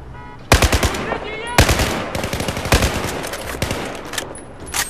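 Battlefield 4 on PS4: close, loud bursts of automatic gunfire crackle in rapid repeated volleys, with short gaps between the strings of shots.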